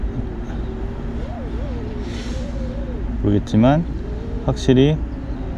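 Drone fitted with MIT-designed toroidal donut propellers (Foxeer donut props), flying with a steady, droning propeller hum that holds throughout while someone talks over it.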